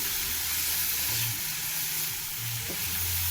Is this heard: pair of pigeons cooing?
no